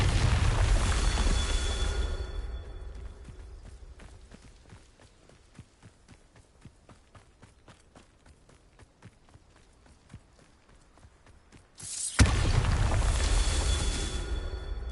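A Bombarda blasting spell goes off with a loud, broad explosive roar, then fades to quiet, footstep-like taps before a second heavy blast erupts near the end.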